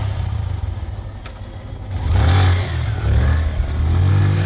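A motorcycle engine rumbles nearby in a spooky night story, a low idle swelling into a loud revving roar midway and holding steady, with no voices over it.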